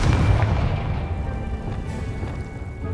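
Confringo fire spell blasting in Hogwarts Legacy: a single deep, loud explosive boom at the start that rumbles and fades into a lingering low roar.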